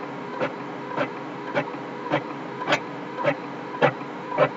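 A color printer feeds out an Urdu worksheet, giving a steady mechanical hum broken by about eight evenly spaced clicks or clacks, roughly one every 0.6 seconds, close by with no talk.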